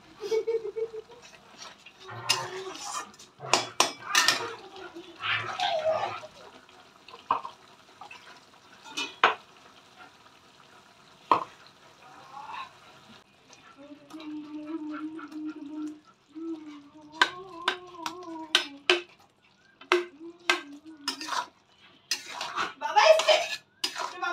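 Masala being stirred and sautéed in oil in a pan for a vegetarian potol (pointed gourd) dish, with repeated clinks and scrapes of a utensil against the pan and a sizzling undertone, interrupted by intermittent talk.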